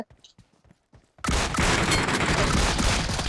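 Sudden burst of heavy, sustained gunfire in the shooter game Metro Royale, erupting after a second of quiet clicks and soft footsteps and then rattling loudly and continuously to the end.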